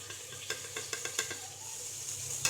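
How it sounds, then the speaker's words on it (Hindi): Chicken liver frying with turmeric, coriander and chili powder gives a soft sizzle under a series of sharp spatula scrapes and taps against the pan, fairly quiet. "इसे भून लेना है जब तक ये मसालों का कच्चापन ख़त्म ना हो जाए"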